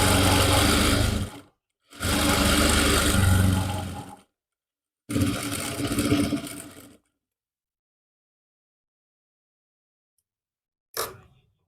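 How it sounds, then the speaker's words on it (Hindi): Sewing machine stitching a kurti seam, heard in three loud bursts of fast motor whirring separated by short pauses, followed by silence and a brief final mechanical click. "एक सिलाई और लगा लेंगे एक पैर का गैप देते हुए।"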